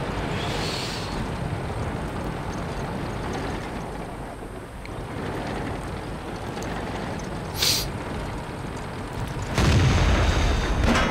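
Tank cannon shots hit armor in the World of Tanks game on an AT-15A tank destroyer, with muffled booms over a steady engine rumble and a sharp impact near the end.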